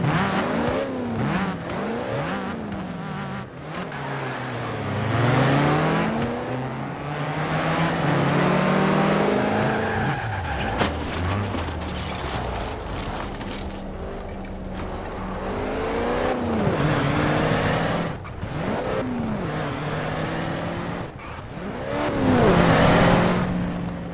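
Hot Wheels cars race through a mountain track at night, engines revving and whining loudly without a break, pitch sweeping up and down as the cars speed past.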